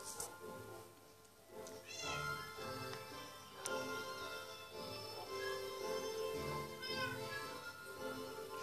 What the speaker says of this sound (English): it's just my dogs and cats being noisy